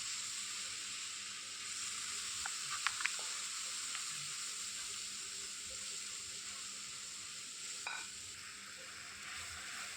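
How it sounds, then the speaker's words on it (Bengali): Spice paste for a tilapia curry fries in a pan as water is added bit by bit, giving a steady bright sizzle throughout with a few faint ticks and spatters, quiet and close, no voices. "এবার একটু একটু করে জল দিয়ে মশলাটাকে ভালো করে কষিয়ে নেব"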